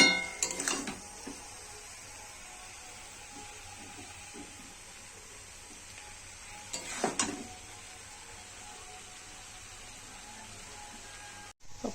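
A pan of bottle gourd cooked with prawns being stirred and served onto a plate: two clusters of metallic scraping and clinking, one early and one later, close by, with a steady low hiss and quiet stretches between.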